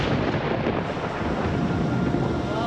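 Thunder rumbles during a storm at Bondi Beach, a loud, continuous broadband roll that fills the whole stretch without breaks.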